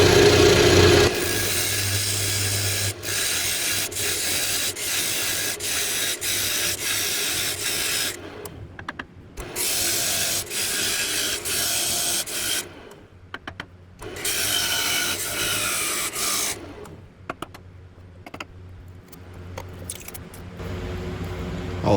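A woodturning lathe cuts out the center of an Osage orange bowl, giving a dense, continuous scraping and rumbling sound with rhythmic tool chatter and several short pauses.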